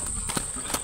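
Hooves of a horse clip-clopping on the ground, two or three distinct hits spaced about a third of a second apart, close by, under a constant thin high-pitched background tone.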